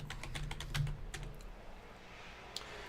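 Close, quick keystrokes on a computer keyboard while a Joomla course module is set up, with a burst of clicks in the first second and a half and then a few isolated taps alone.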